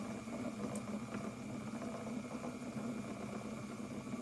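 A small Electric Eel Wheel Nano electric spinning wheel runs with a steady, close motor hum and faint vibration, holding an even level throughout with no talking.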